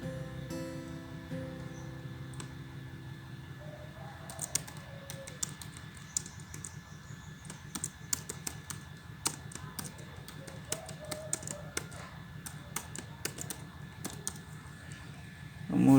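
Computer keyboard typing in quick bursts of soft clicks and taps, close and fairly quiet, with a steady low background hum.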